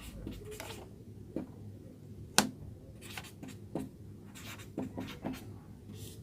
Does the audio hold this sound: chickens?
no